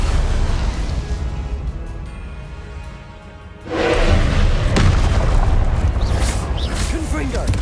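A Confringo spell explosion in the video game Hogwarts Legacy lands as a loud booming blast midway, following a sustained rumbling roar, with a crackling, whooshing tail afterward.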